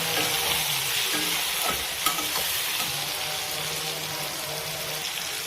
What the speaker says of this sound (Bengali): পেঁয়াজ হালকা ভাজা হয়ে এলে এর মধ্যে দিয়ে দিতে হবে একটা মিডিয়াম সাইজের টমেটো কুচি।